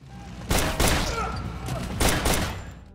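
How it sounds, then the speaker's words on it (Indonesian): Gunfire from a film shootout between a criminal gang and their attackers: loud volleys of shots burst at two points, each a close pair of sharp cracks, with the background rumble continuing in between. "Panjul dan para antek-anteknya pun siap siaga untuk baku tembak melawan Jack CS."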